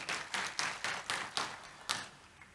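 Congregation clapping in rhythm during a church service praising Jesus, about seven sharp, evenly spaced claps at moderate volume, with no talking over them.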